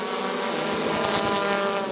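Race cars roaring together as they accelerate at the green flag start of a bracket heat at Rockford Speedway, a loud dense engine roar over two seconds.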